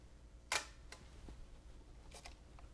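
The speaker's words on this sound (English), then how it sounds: "So the shutter works good" A single crisp shutter release on an old Ihagee Patent Duplex camera, sharp and close, followed by quieter mechanical clicks and a faint double click later in a quiet room.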